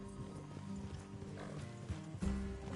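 Horses in a video game plodding with soft clip-clop hoofbeats and a brief snort or whinny, heard at moderate distance under a layered game soundscape with low music-like tones.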